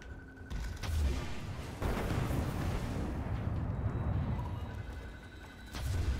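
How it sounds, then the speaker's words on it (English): Rocket explosions in the Destiny video game, a run of loud booming blasts that roll and rumble continuously for several seconds, with a fresh burst near the end. "if we can throw some rockets into this room"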